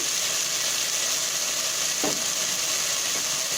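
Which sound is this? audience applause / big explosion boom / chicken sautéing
chicken sautéing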